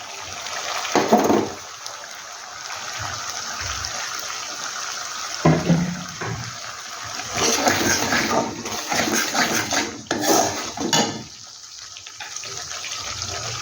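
Small splashes of water pour into a cooking pot while making lauki kofta (bottle gourd dumplings), coming as a few short gushes spread through the clip against low kitchen background noise.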